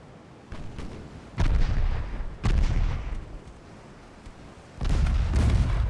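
Naval guns firing in Ultimate Admiral Dreadnoughts, a light-cruiser battle with seven-inch guns: several heavy booming salvos arrive at irregular intervals, each a broad rumbling blast with a decaying tail over a low background.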